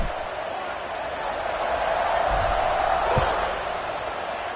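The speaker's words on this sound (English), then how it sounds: "this crowd is buzzing after that last score" Stadium crowd at a Cal vs Washington college football game buzzes in a steady, dense roar that fills the space, with a brief thump near the middle and faint commentary mixed underneath.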